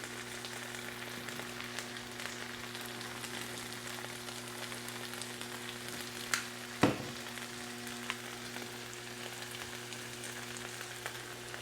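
Sausage, potato and cheese patties fry on a flat griddle with a steady, soft crackling sizzle throughout, broken by a couple of brief sharper clatters near the middle; no one speaks.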